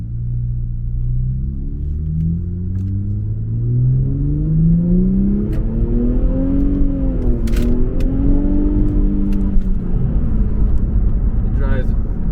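An Infiniti Q60 in limp mode driving and accelerating, with the engine note rising steadily through revs over a constant road rumble heard from inside the car, and a few faint clicks on top.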